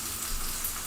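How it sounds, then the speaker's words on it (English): Peppers sizzle and crackle in hot oil while being stir-fried, a dense, steady hiss close to the pan with no talking. "Get your peppers to sizzle."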